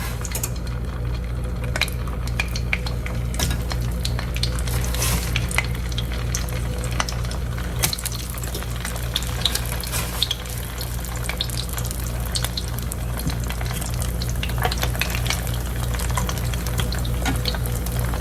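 Potato salad croquettes frying in oil, a Southern-style dish: a steady crackling sizzle with scattered sharp pops and spits, moderately loud and continuous with no talk.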